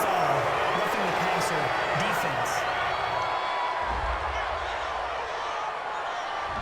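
Stadium crowd at an NFL game between the Los Angeles Chargers and Baltimore Ravens reacting to a penalty call, a steady loud roar of many voices filling the space, with a commentator talking over it.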